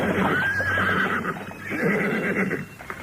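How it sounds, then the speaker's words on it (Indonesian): A horse-drawn carriage with a horse neighing loudly in a long whinny, hooves clopping faintly underneath, close and clear. "sebuah kereta kuda berderap di jalanan kota raja"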